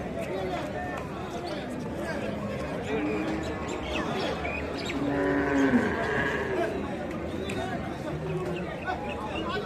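Cattle moo at a busy cattle market in Melapalayam where rekla racing bulls are traded, with lowing calls rising midway through steady crowd chatter and people talking close by.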